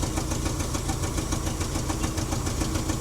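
A seized V8 International engine, freshly revived with a carburettor and new plugs and leads, runs at a steady, close, loud idle throughout with an even rumbling pulse and no pauses.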